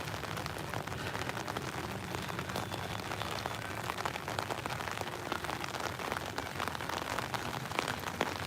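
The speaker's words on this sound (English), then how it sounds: "Thank you for joining me in the rain," Steady rain falls outdoors on a hiking trail near war memorials, a dense, continuous hiss of drops pattering on surfaces, close and even throughout with no voices.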